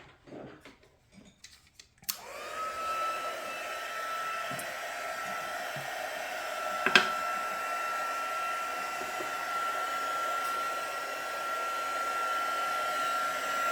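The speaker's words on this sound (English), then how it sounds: "I'll get my heat tool and" A heat tool warms card-making material: a steady, close blowing whir starts about two seconds in and runs unbroken to the end, with a brief click partway through.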